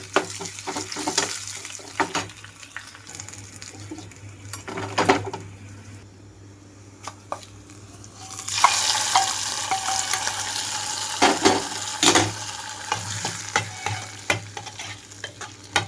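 Hot garlic tempering hits gongura dal with a loud sizzle, then a spoon scrapes and stirs the pot in uneven bursts, with a fresh surge of sizzling midway, and no one speaks.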